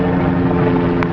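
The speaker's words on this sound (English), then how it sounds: "that helicopter is circling something." Helicopter circling overhead outdoors on a sunny day, a steady droning rotor hum throughout with a brief brighter swell near the end, no talk.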